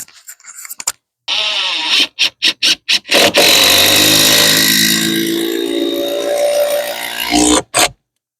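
A power driver runs a screw into shed floor framing to tighten it down, a 2x6 under the block, with short trigger bursts followed by a long, loud, steady whine that drops as the screw seats.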